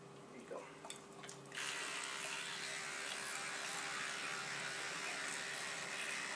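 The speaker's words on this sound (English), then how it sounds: "we actually got a toothbrush for him" An electric toothbrush hums steadily while brushing a dog's teeth at home, starting with faint handling noises and then running as a continuous buzz, close by and fairly quiet.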